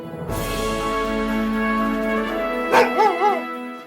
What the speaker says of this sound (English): if you hear those dogs barking in the background